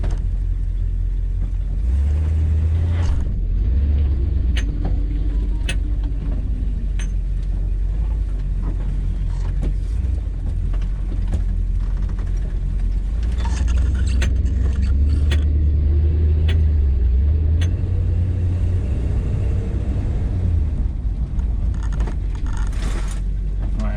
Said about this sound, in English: So we're gonna go on a little test drive and see how things are.